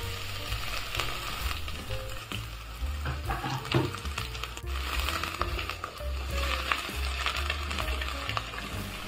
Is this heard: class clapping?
no